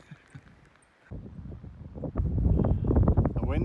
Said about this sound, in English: The wind is up